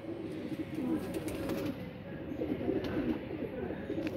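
Pigeons cooing in a breeder's loft of paired birds, soft low murmuring coos repeating steadily throughout with a little bird chatter over a busy background.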